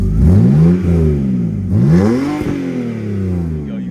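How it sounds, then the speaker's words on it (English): A 2001 BMW E39 540i with a V8 engine revs hard twice in quick succession, each rising and falling roar loud and close, then settles back toward idle. "Rev it."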